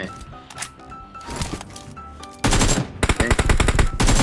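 AK rifle fire in a video game: rapid sustained automatic bursts, loud and dense near the end, after scattered earlier shots under game sounds and a faint voice.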